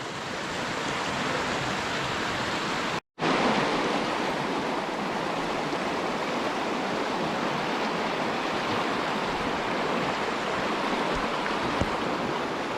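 A small river in the Dordogne rushes in a steady, dense wash of flowing water, close and continuous, broken only by a brief silent gap near the start.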